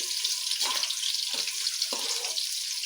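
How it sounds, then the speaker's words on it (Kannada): Green chillies fry in hot oil in a pan, a steady close hiss with brief bubbling bursts as the pieces shift, continuous and alone without any voices. "ಮೆಣಸಿನ್ಕಾಯಿನ ಫ್ರೈ ಮಾಡಿ ತೆಗಿಬೇಕು"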